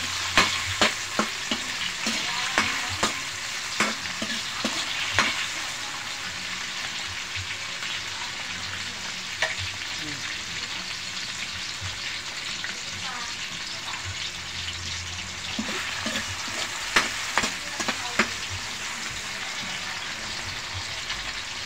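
Ginger and tilapia cook in coconut milk in a pan, giving a steady sizzle and bubbling throughout, with scattered clinks and scrapes of stirring on top.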